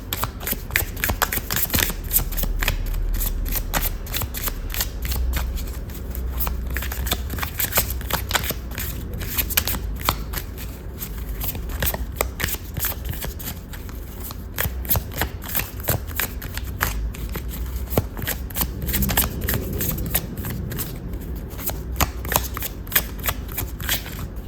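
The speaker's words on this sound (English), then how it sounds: "Let's shuffle the cards." Tarot cards are shuffled by hand nearby, a continuous run of crisp flicks and soft slaps over a low rumble, lasting nearly twenty-five seconds with no speech.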